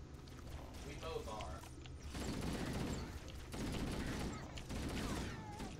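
Covenant plasma pistol shots from the first Halo game, heard as dense bursts of game gunfire and effects over a continuous busy mix of music and ambience, fairly loud throughout.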